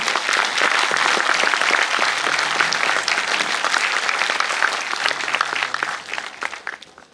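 A Hindi-speaking devotional gathering's audience claps steadily and loudly to welcome Baba Nanak Das, the dense applause holding for several seconds before tapering off near the end.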